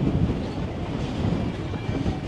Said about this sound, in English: it is actually a lot windy out here